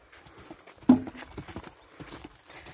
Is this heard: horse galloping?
yes